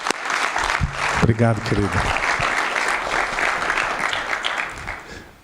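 Church congregation applauding a guest speaker being welcomed to the stage, steady broad clapping throughout, with someone speaking Portuguese briefly over it.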